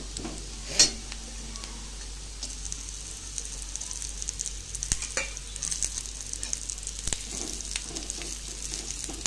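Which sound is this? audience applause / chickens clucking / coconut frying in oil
coconut frying in oil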